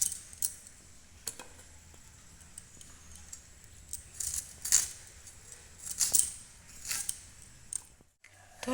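A knife cuts a banana stem into rough round pieces for boiling, making a series of crisp clicking chops against a board, irregular and close, with short quiet gaps and no talking.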